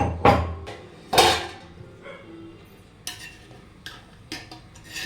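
A lid comes off a pot of prawn biryani with a few sharp metallic clanks and scrapes, two louder knocks early then lighter taps and clinks spaced across several seconds in a quiet kitchen.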